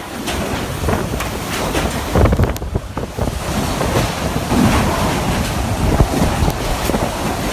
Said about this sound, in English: Hurricane Maria hit the islands with sustained 155-mile-an-hour winds